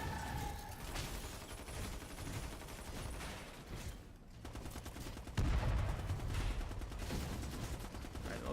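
Havok Launcher fired in the game Livelock, a dense barrage of rapid shots and blasts running steadily throughout, swelling louder near the end.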